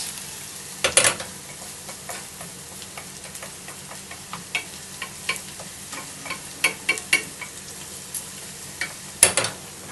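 Onions stir-fried in a pan until golden brown for curry, a steady sizzle under repeated sharp scrapes and taps of a spatula against the pan, close and clear.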